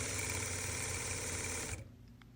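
Sewing machine running steadily at a slow pace while edge stitching a belt loop through thick folded fabric, a continuous close mechanical whir that stops abruptly near the end, leaving faint clicks.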